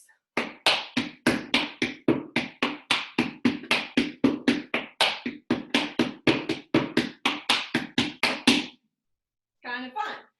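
Tap shoes strike a hard floor in a fast, even run of about two dozen crisp, close hits during jab heel steps, followed by a pause and a short flurry of quick taps.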